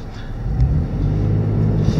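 Engine of a 2015 Toyota 4Runner TRD Pro pulling through a 0-60 mph acceleration run, a steady loud low rumble from inside the cabin with no letup.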